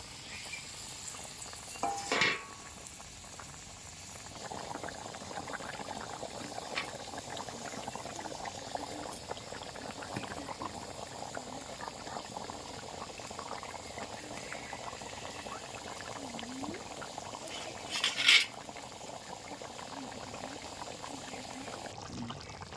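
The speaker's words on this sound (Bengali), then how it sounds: "আমার ঝোলটা ফুটে গেছে" Gravy for an egg curry boils in a pot with a soft, steady bubbling, broken by a couple of brief clanks from utensils.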